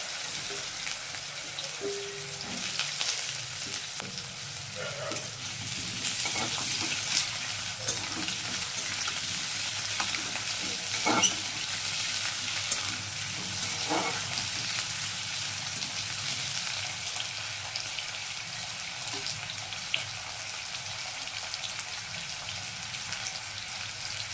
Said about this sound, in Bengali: আলু ভাজাতে দিয়ে দেবো নুন হলুদ